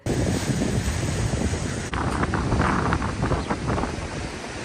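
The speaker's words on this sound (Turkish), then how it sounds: "kuvvetli rüzgar ve fırtına denizde devasa dalgalar oluşturdu" Strong gusting storm wind roars across the microphone alongside the heavy rush of huge sea waves on the Hatay coast, loud and continuous throughout.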